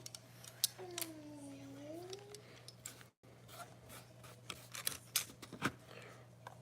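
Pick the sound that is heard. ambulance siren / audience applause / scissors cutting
scissors cutting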